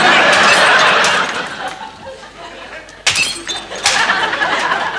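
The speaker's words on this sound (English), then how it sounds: "Why are you smashing up saucers, Rick?" Saucers smashed on a kitchen floor in a sitcom scene, with a sharp ceramic crash and scattered clatter, a quieter stretch, then a second loud breaking crash near the end, mixed with room noise.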